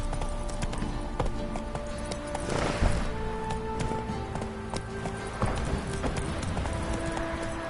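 Hooves of the horse Roach clip-clop at a steady run in a video game, close and moderately loud over a busy bed of game music and ambience, with a brief whoosh near the middle.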